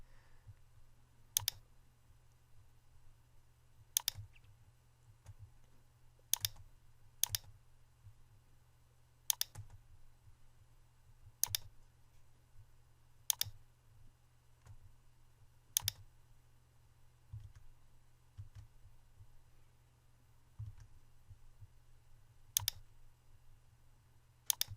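Sharp computer mouse clicks, about a dozen scattered singly across the span at irregular intervals, close and crisp over a steady low hum with no talking.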